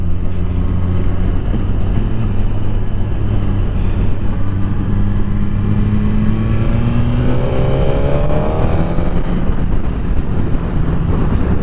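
A Suzuki GSX-R1000R sport motorcycle accelerates hard, the engine note climbing steadily in pitch through the gears, loud and close with heavy wind rush and no talk.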